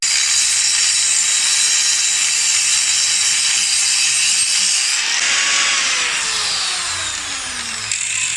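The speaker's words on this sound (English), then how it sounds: "I'm going to make some measurements across here and cut some lengths of box section" A power saw cuts through lengths of steel box section with a loud, continuous, high grinding whine close to the microphone, dropping in pitch as the blade winds down near the end, with no voices.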